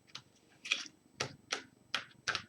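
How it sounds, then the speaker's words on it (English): Tarot cards riffled and shuffled at close range, coming as six or so crisp, papery bursts with short pauses between them. "I'm going to give it one more shuffle and fan them out"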